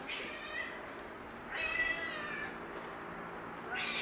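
A house cat meows several times, with harmonic calls near the start, a longer and louder one in the middle and another at the end, heard close and alone in a quiet indoor room.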